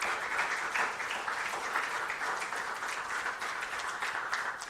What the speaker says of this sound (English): I want to give our principals and teachers and support staff a round of applause.